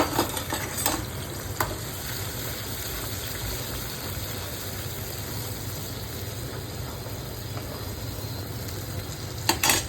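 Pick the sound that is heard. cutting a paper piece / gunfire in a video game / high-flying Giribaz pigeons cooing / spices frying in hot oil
spices frying in hot oil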